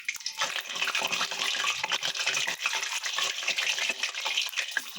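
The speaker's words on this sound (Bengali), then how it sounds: "আলুটা ভেজে আমি এটাতে ডিমটা ভেজে নেব।" Eggs fry in a pan after potatoes for an egg curry, a continuous hissing sizzle with crackling pops that stays steady for several seconds, close and moderately loud.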